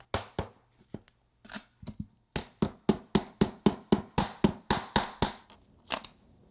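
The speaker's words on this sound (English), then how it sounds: "I'm using a putty knife and a hammer to get this tile out." Sharp metallic hammer taps on a putty knife prying out a broken tile strike in a quickening series, roughly a dozen close, loud blows with brief pauses between, no talking.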